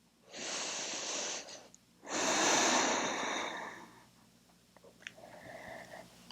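Deep, slow yoga breaths held in a standing forward-bend flow, two long airy exhales close to the mic, followed by quieter faint breathing and small rustles.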